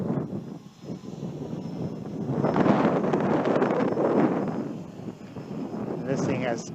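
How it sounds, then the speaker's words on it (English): Gusty wind buffets the microphone outdoors in Southern California while a WLToys V303 Seeker quadcopter carrying a GoPro flies, a steady rushing roar that swells and eases over several seconds. "It's usually never this windy in Southern California."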